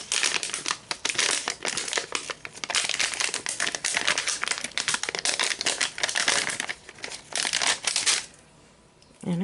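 Clear cellophane is peeled slowly off a delicate craft piece, giving close, continuous crinkling and crackling that stops near the end before a short quieter rustle.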